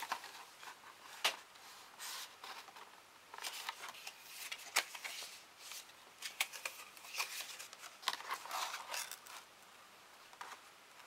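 Scissors snip through fabric while cutting out a small backpack, giving quiet, irregular clipping and rustling sounds spread through the clip at low level.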